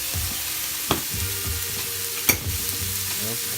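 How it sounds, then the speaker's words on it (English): Paella rice sizzles in a hot pan as it is stirred, with a steady frying hiss broken by a few scraping strokes of the spoon, close and alone. "Give it a good stir."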